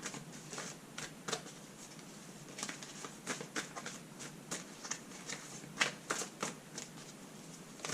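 Tarot cards being drawn and handled from a deck, giving a steady run of soft, quick papery flicks and riffles at close range with no talking.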